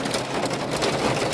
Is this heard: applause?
no